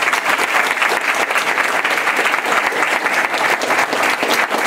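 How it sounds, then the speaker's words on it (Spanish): A large audience applauds Pope Francis at a Spanish-language charismatic renewal gathering, with steady, dense clapping that fills the whole stretch without pause. "Un aplauso para el Papa Francisco."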